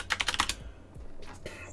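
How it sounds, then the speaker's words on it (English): A computer keyboard typing an authentication code, a quick close burst of about five crisp keystrokes followed by a couple of softer, scattered taps. "You can't see my hands, so I will type this in."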